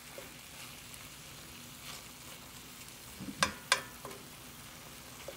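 Meatloaf sears in a hot pan on a high flame, giving a soft, steady sizzle with a couple of sharper crackling pops near the end, fairly quiet and with no talking.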